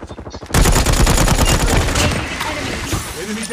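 Gunfire in Call of Duty Mobile erupts as a loud, dense burst of rapid automatic shots after a brief lead-in. It rattles on continuously for about three seconds before tapering slightly.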